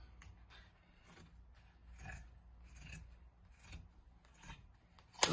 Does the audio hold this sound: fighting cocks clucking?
no